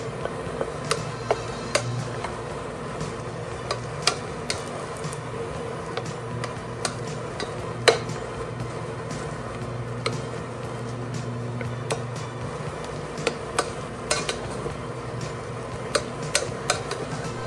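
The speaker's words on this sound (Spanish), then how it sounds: "escuchemos el sonido de la masa friéndose" A soft, steady sizzle of choux pastry dough cooking in a pot, punctuated by frequent sharp clicks and taps of a utensil scraping and stirring against the metal.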